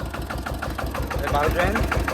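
An old dumper truck's engine idles close by with a steady, rhythmic chugging knock that holds even throughout.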